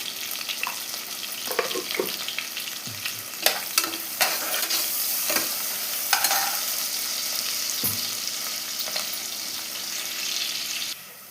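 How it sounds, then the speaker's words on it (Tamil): Onion and green chilli sautéing with salt in a hot pan make a continuous bright sizzle, broken by repeated close spatula scrapes and stirs, the frying softening slightly toward the end. "ஆனியன் வதக்கும் போது எப்போவுமே கொஞ்சம் உப்பு சேர்த்து வதக்குங்க"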